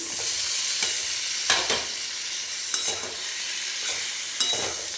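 Boiled potatoes tumbling into a sizzling tomato masala in a pan, then stirred with a spoon: steady frying hiss under several sharp scraping and knocking strokes, close and fairly loud, with no voices.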